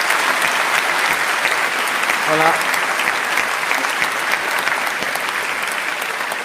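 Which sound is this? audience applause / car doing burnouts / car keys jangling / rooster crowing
audience applause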